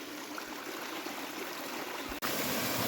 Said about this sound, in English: This is the nicest stream I've seen since I started.